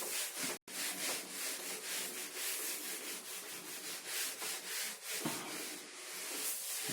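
A board being wiped clean with a duster during a physics lecture: continuous close, even rubbing strokes in a steady back-and-forth rhythm, with no talk.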